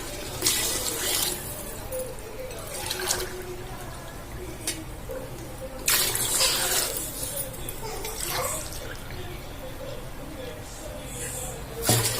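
Water splashes and pours in bursts into a boiling pot of mutton dum biryani, about three glasses' worth, with a steady background hiss between the pours.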